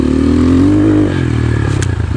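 A GPX FSE 250 E dirt bike (2021.5 model) pulls in second gear on a small hill climb, its engine a loud, steady close-up drone whose pitch rises slightly and then settles under rougher, uneven chugging.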